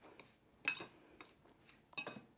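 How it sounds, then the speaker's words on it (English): A utensil clinks against a flat pan while sugar and cinnamon are mixed for sweet empanadas, a few sharp metallic taps spaced irregularly over quiet, near and fairly soft. "And I will mix it with the cinnamon."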